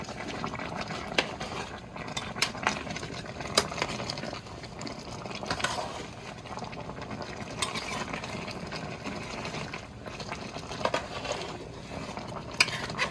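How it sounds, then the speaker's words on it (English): A spoon stirs smoked turkey necks with rice and red beans simmering in a pot, giving soft scraping and clinking strokes at irregular intervals over a low bubbling background, close and fairly quiet. "I'm gonna go ahead and stir it around"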